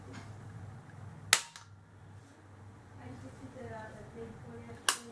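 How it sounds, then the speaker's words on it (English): An airgun bolt is cocked back, giving two sharp metallic clicks spaced a few seconds apart over a low steady hum. "You can hear it cocking back here"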